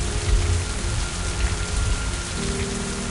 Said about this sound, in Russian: Дождяра похерячил.